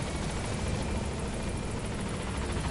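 A helicopter in the video game Metal Gear Solid 5 gives off a steady, dense rotor and engine roar that holds unbroken and fairly loud throughout, with no talking over it.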